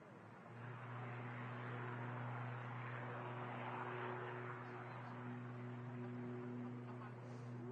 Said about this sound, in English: Logan ATR on the way out on the south side